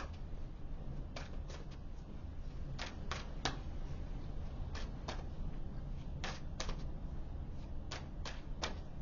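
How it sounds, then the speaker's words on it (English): Tarot cards being shuffled and pulled, a run of crisp card flicks and snaps in irregular clusters, close and fairly quiet against a steady hiss. "I'm going to pull some more cards here"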